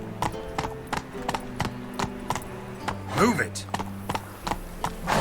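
Horse hooves clip-clop at a steady trot in The Witcher 3, a close rhythmic beat under game music, with a man calling and urging the horse along and a brief whinny midway.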